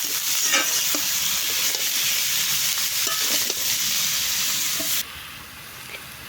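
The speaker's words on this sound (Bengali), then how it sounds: "ভালো করে এবার মশলার সাথে একটু মিশিয়ে নেব।" Ridge gourd vegetable being stirred with spices in a pan for a Bengali fish dish, a loud continuous sizzle with scraping spatula strokes that drops suddenly quieter near the end.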